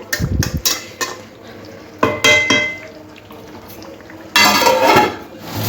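Chicken chap is stirred in a pan over a soft simmer, with bursts of clattering utensil scrapes and knocks against the pan separated by quieter pauses.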